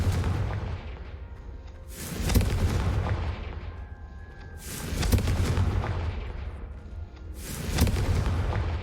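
Confringo fire spells exploding in a Harry Potter style video game: three loud booming blasts a couple of seconds apart, each with a roaring tail that fades before the next hit.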